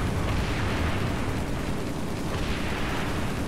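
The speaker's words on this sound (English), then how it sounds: "we just got hit by the anti-air." A loud, continuous roaring blast from anti-air fire hitting the player's vehicle in Halo 3, on a Legendary run of The Covenant mission, filling the whole moment with dense, sustained noise and no talk.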